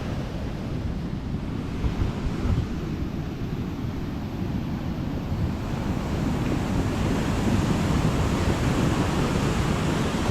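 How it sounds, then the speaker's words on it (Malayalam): Sea waves surging against an eroding shoreline where the surf is carrying away the land, a steady loud roar of breaking water with wind buffeting the microphone throughout, no voices. "കടല് ഇങ്ങനെ കവർന്നെടുത്ത് പോകുന്നത് കണ്ടോ"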